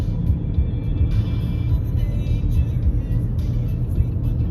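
Steady engine rumble and road noise of a car driving along a village street, close and continuous with a faint tonal whine above, no voices heard.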